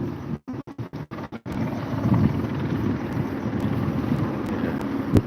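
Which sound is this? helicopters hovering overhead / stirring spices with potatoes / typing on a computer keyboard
helicopters hovering overhead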